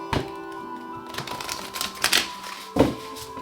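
A deck of tarot cards shuffled up close, with crisp, clicking bursts of cards striking together at an uneven pace and one sharper slap near the end; no one speaks.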